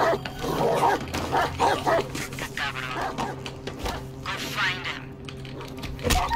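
A dog in the video game Watch Dogs 2 barks and yips in several close, sharp bursts, mixed with game sounds and someone talking.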